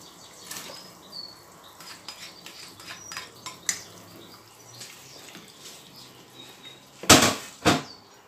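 A spoon stirs cabbage into a pot of vermicelli noodle soup, giving scattered soft clinks and sloshes, then two sharp louder scrapes near the end.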